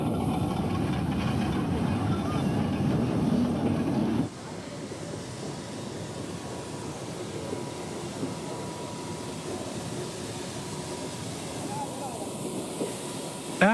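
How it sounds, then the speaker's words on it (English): A steam locomotive passes on a South American line, giving a dense, steady hiss and rumble that drops abruptly to a lower, even roar partway through and continues unbroken to the end. "The people who live along the tracks also wait to see the steam locomotive pass"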